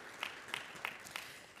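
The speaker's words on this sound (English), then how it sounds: "So you do deserve a round of applause." Faint, distant applause from a conference crowd at an annual mining consultative meeting, with a few sharper claps standing out at a slow, regular pace.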